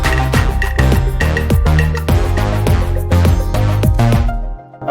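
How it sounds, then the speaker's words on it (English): A lo-fi sounding guitar plays over an African beat, its plucked notes bouncing in a steady rhythm with a full, loud mix that cuts off abruptly at the end, with no talking. "so I just added a lo-fi sounding guitar there, so it will sound like this."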